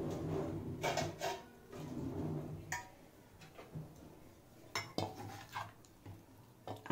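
A metal ladle scooping akhni, the spiced biryani stock with potatoes and eggs, from one pot into another: repeated clinks and knocks of steel against the pot rims with soft liquid pours, close by, with no talking.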